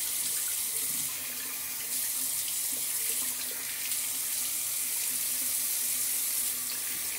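Cold water runs steadily from a bathroom faucet into a sink, a continuous close hiss of flow that holds even for about seven seconds with no talk.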